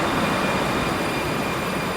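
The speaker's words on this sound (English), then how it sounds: "here's our 3rd tram of today, the number 19" HTM tram number 19 arrives at a stop in The Hague, a loud, steady rumble and hiss of wheels on rails that stays close and constant throughout, with no talk.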